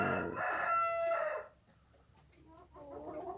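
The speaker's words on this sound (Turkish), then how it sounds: "Horozlar yeni yeni ötmeye başlıyorlar." A young rooster just starting to crow crows once, loud and close, with a cracking, unsteady tone, followed by softer clucking from birds nearby.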